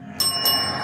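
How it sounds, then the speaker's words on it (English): A bright metallic bell at a home haunted attraction in Indianapolis, struck twice in quick succession with clear ringing tones that sustain and decay under a low background hum. "Oh, ring the bell?"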